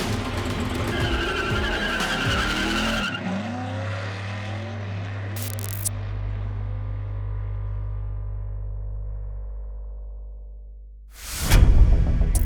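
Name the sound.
race car tires skidding on raceway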